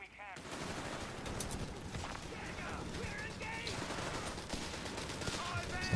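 Dense automatic fire and battlefield clatter from a Company of Heroes 3 match, a 2v2 skirmish in woodland with machine gun teams, run continuously and loud throughout without pause.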